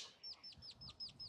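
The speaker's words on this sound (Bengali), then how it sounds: "এখানে অনেক হাঁস" Ducks at a park lake in Northwest Park, Irving, Texas, give a short run of about six quick, faint, high chirping calls in an even rhythm, heard alone and somewhat distant.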